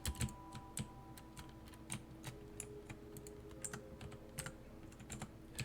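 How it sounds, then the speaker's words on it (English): Computer keyboard keys clicking while playing Terraria, irregular sharp taps in scattered bursts against a faint background hum, close and moderately loud. "Clicking all the wrong buttons."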